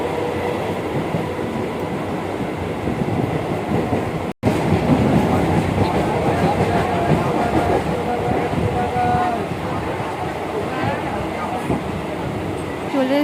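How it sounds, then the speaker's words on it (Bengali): A Howrah–Bandel local train running, heard from inside the carriage as a loud continuous rumble and rattle of wheels on track with a brief cut partway through. "উঠে পড়েছি আমরা ট্রেনে, ট্রেন ছেড়ে দিয়েছে।"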